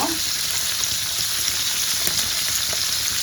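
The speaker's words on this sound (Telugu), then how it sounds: "కొంచెం పసుపు అయితే వేసుకుంటున్నాము బాగా కలుపుకోవాలన్నమాట ఆయిల్లో బాగా వేయించుకోవాలి ఇది" Mutton liver sizzling steadily in hot oil with turmeric added, a dense continuous frying hiss with a faint stir or two, close and fairly loud, no voices.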